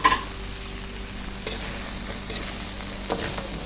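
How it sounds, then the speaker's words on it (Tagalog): Eggplant sizzles in a wok for pakbet, a soft steady frying hiss close by, broken by a few clanks and scrapes of stirring, with a brief sharp knock at the very start. "So ngayon, ilalagay ko na siya sa kawali."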